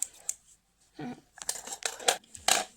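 Scissors snip and cut open plastic toy packaging for a Fashionistas doll unboxing, giving several short, close, crisp cutting bursts separated by brief pauses, with no talk.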